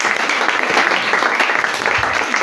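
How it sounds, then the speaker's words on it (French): Steady, loud applause from a church congregation, a dense wash of many hands clapping together, sustained throughout without pause. "Est-ce qu'on peut une fois de plus acclamer la parole?"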